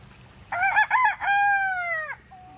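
A rooster crows loudly and close by in a backyard flock, the call opening with a few choppy bursts and then a long drawn-out note, with faint low farmyard noise underneath.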